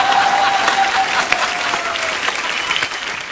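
Enthusiastic audience applause at a Hindi poetry gathering with Rahat Indori, a dense, steady clatter of many hands that stays loud for a few seconds before easing slightly near the end.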